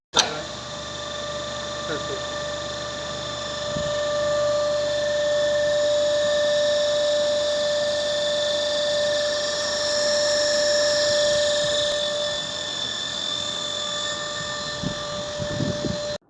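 A motor-driven generator set runs steadily at no load, a constant mechanical whine with a strong tonal hum and several high steady tones, sustained throughout at moderate level.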